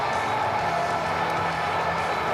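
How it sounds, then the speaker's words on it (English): A large stadium crowd at the Bernabéu cheering for Dani Carvajal, a continuous loud roar of voices and applause filling the whole stretch without a break. "Huge cheer, what a great reception for Dani Carvajal"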